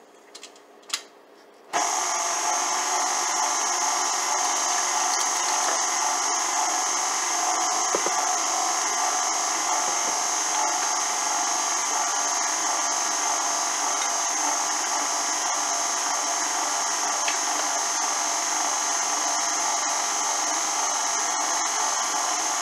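An electric mixer whirs at steady speed through pineapple upside-down cake batter, starting after a few faint clicks and then holding a loud, even motor whine close up for a long stretch.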